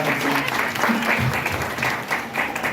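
A crowd at an RCM business motivational gathering applauds loudly and steadily for company founder TC Chhabra, with voices rising through the clapping.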